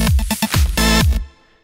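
An 8-bit electro house bass on a Thor synth with a second oscillator switched on gives a thicker, brighter buzz, a fast rhythmic run of punchy notes with falling pitch sweeps ending in a sustained tone that stops sharply.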